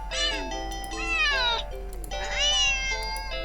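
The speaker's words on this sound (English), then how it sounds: "the cat meows sharply at you and dashes off around the corner and into the hall" A cat in a video game meows sharply twice, clear drawn-out rising-and-falling calls close up, separated by a short pause over a low steady hum.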